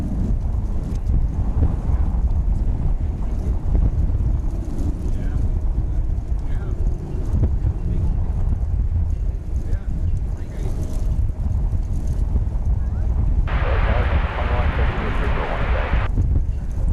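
Steady low rumbling wind buffets the microphone at an airport, with broadband gusty noise and a brief brighter hiss near the end.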